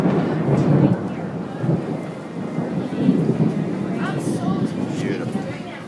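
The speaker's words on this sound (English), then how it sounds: "this thunder sounds great" Thunder rumbles low and heavy during a May thunderstorm at the Cedar Point amusement park, rolling steadily with rain hiss beneath, while people talk close by.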